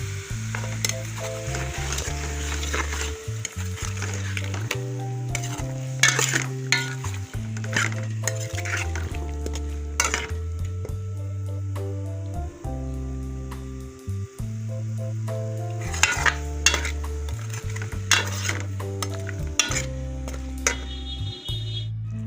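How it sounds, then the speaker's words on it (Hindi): Peas and potatoes fry in a pan with continuous loud sizzling while a spoon stirs, scraping and clinking against the metal in irregular bursts throughout. "मटर आलू की भुनाई हो रही है।"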